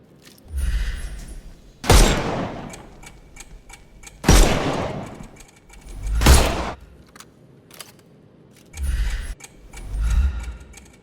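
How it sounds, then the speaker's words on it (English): Gunfire in the Sherlock Holmes Chapter One video game, a few loud separate shots with sharp echoing tails spaced a couple of seconds apart, mixed with softer thuds and low rumbles between them. "Shoot off their armour."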